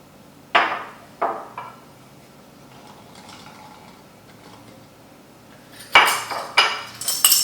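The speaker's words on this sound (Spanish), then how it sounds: "Para eso voy a echar la mitad primero en el mortero" Halved garlic cloves drop into a mortar in a kitchen, giving a few sharp, close clinks and knocks, first spaced apart and then a quicker cluster near the end, with no talking.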